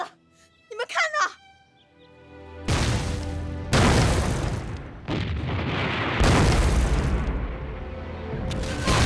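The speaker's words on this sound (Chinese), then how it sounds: "鬼子在咱村扔炸弹了" Bombs bursting in a village during a war film scene: several loud, heavy booms follow one another in quick succession, each a long roaring blast, coming right after a brief shouting voice.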